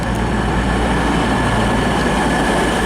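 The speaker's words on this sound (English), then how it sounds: "We've got 222 and another 222 coming in, the Meridian" A Class 222 Meridian diesel train runs into a station, a steady, loud, broadband rumble of engine and wheels that holds constant throughout.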